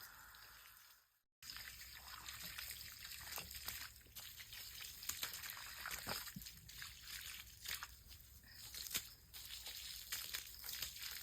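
Faint, steady rush of water flowing and trickling through a newly fitted pipe on a farm, with gurgles and sloshes, after a brief silent break near the start.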